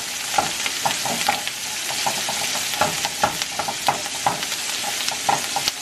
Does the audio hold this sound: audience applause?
no